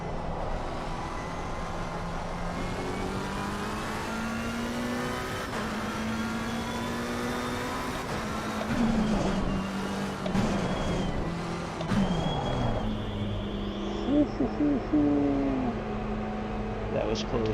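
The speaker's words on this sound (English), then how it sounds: "especially driving the McLaren, because I haven't driven the McLaren in so long" A McLaren race car engine in Assetto Corsa Competizione at Silverstone drones steadily, its pitch rising and falling through gear changes as the car brakes and accelerates, with a voice talking over it at times.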